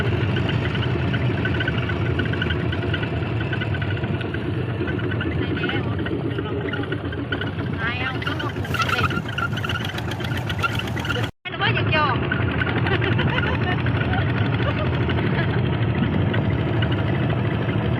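A heavy tractor engine rumbles continuously at a steady pace while driving, loud and close, with a brief cutout partway through and a voice talking over it.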